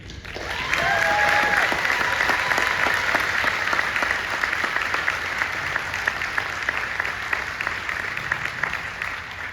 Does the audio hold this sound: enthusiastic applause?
yes